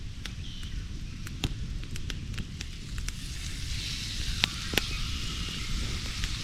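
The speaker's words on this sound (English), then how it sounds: "butter is sizzling. Time to get these big juicy steaks on" Steaks sizzle in butter in a pan, steady soft sizzling and crackling of frying, with a few sharp pops scattered throughout, close by and continuous.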